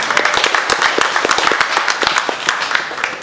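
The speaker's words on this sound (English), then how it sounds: "Big round of applause." An audience at a celebrity boxing press conference breaks into steady applause, dense clapping from a crowd, loud and close, sustained throughout.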